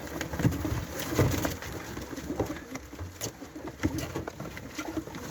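Pet pigeons in a loft cooing softly and steadily nearby, with faint wing flutters and light tapping over a constant low background hiss.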